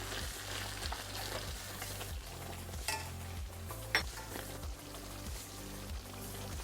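Spices are stirred into tomato rice frying in a pan, with soft scraping strokes and a gentle sizzle, faint and close, with one sharper clink against the pan.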